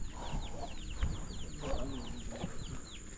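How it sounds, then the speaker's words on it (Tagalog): Soft clucking from chickens mixed with repeated high chirps of chicks, steady and close against a low background hum. "Ba't nandyan yung manok na yan?"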